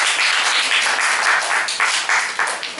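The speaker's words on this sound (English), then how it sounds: "Clap for the speaker." Audience applauding a speaker at a school Toastmasters meeting, a short burst of dense, steady clapping from a roomful of people, close and lively.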